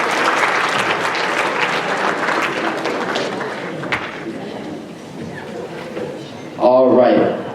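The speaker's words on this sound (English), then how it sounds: "Let's clap it up for Gabby." Applause for Gabby, a guest at an evening interview event, fills the room with dense, steady clapping and scattered voices, fading slightly before a brief burst of louder close talk and cheering near the end.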